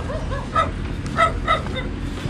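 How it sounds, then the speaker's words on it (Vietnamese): A dog barks repeatedly in short yips and bow-wows on a flooded riverside homestead, several sharp barks spaced through the moment over a low background rumble. "Chó sủa liên tục."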